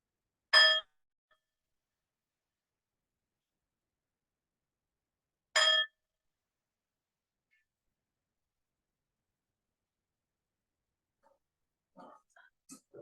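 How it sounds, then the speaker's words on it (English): A meditation bell is struck twice in a quiet room, about five seconds apart. Each strike gives a clear, bright ring, followed by silence and then faint rustling. "I invite 3 sounds of the bell to seal our morning meditation."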